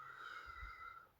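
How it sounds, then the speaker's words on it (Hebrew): A slow, long exhalation during a calming breathing exercise, a soft breathy whistle that holds steady for about a second before fading, quiet and close. "ונושפת לאט לאט"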